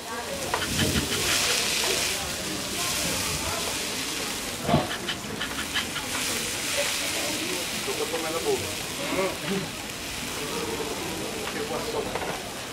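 Tomatoes fry in a hot pan with a continuous crackling sizzle and occasional stirring clatter, heard at moderate level beneath a person talking throughout.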